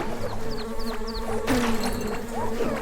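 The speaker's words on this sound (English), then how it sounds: "The way the bees work, they like to swarm around you and like come from the opposite direction" Buzzing swarm of bees in the retro RPG Secrets of Grindea, a dense insect drone with rising chirpy game effects layered over steady background music, no talk.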